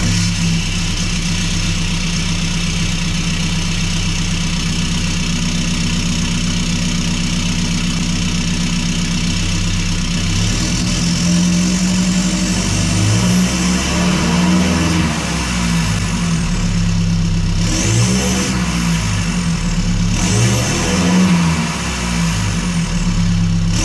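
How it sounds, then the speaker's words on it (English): A straight-piped 2.8L Duramax diesel in a Chevy Colorado, with the DPF and DEF deleted, idles with a loud, steady rumble and then revs up several times in short bursts, close by and with no talk. "So we're going to see what it sounds like though, straight piped"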